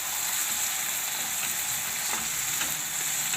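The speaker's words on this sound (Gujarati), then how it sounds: "અને આપણે આ ટમેટા નાખી દેવું." Tomatoes fry in a pan of gravy for a vegetable curry with cauliflower and peas, giving a close, steady, bright sizzle throughout with no talking.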